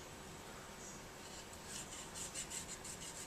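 Q-tips rub back and forth inside the slide rail guides of an Army R17 airsoft GBB pistol, a faint, close, rhythmic scratchy swishing that grows in short strokes, with no talking.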